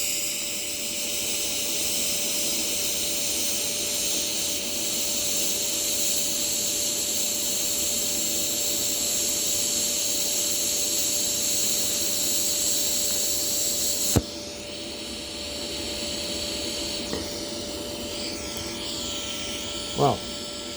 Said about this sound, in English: that was once again a terrible fusion weld job